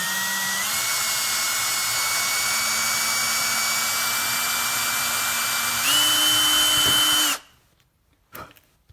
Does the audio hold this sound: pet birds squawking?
no